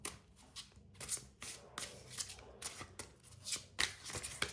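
A deck of tarot cards is shuffled up close in quick, repeated riffling bursts of papery flicks and slides, fairly soft, with no voice over them.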